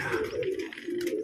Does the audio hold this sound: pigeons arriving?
yes